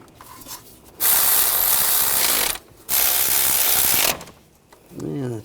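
A ratchet wrench clicks rapidly in two long, loud bursts and a shorter final one while starter bolts are run in on a 2014-2020 Nissan Rogue with the 2.5L four-cylinder.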